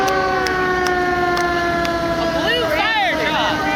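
A fire truck siren at a town anniversary parade in North Kingstown, Rhode Island, a steady tone joined by rising and falling electronic wails near the end, over loud outdoor crowd noise with a few sharp taps.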